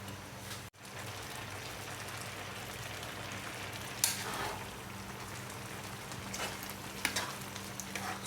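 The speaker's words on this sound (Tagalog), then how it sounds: "malapit na guys maluto ang ating pasta" Beef spaghetti sauce cooking in a pan, a soft steady sizzle and bubbling with a few brief stirring sounds, fairly quiet and with no voices.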